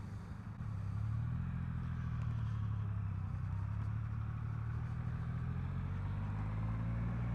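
A 2021 Triumph Rocket 3 motorcycle engine idles with a deep, steady rumble, loud and close, running continuously without revving and with no talk.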